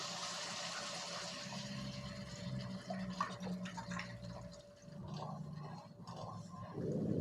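Coconut milk pours into a pot of simmering Thai green curry with fish balls, a close, steady liquid splashing and gurgling that continues for several seconds at moderate volume.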